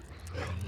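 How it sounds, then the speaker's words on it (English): A dog gives a brief, low whimper in a room, a short soft whine lasting well under a second. "Yeah, that's a dog."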